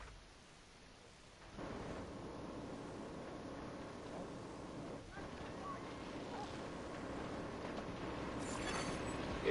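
Wind gusts through a level in The Division 2, a low steady rumble and hiss that rises after a quiet opening and holds to the end, with faint game sounds underneath.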